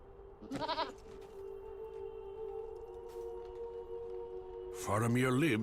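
Goat mount bleating in Lord of the Rings Online, a short quavering bleat near the start and another louder, longer one at the end, with a steady game hum between.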